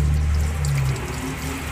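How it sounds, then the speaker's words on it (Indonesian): Raw chicken is rinsed under a running kitchen tap, giving a short, steady splash and gurgle of flowing water close by. "Cuci di air mengalir"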